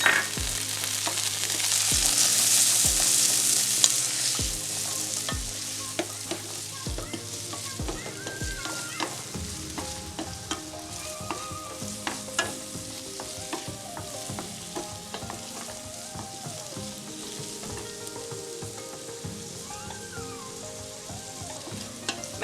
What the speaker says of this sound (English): At this point now I'm going to go in with my celery